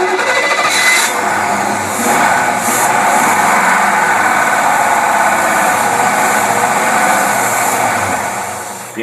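A Buick engine fed by a dual WCD carburetor runs steadily and loudly up close, a continuous broadband mechanical roar with no voices over it.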